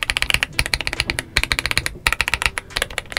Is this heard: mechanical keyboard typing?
yes